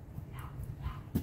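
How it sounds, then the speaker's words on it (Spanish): A neighbour's dog barks from behind the house, a few faint, muffled yips and woofs at a distance over low background noise. "está ladrando."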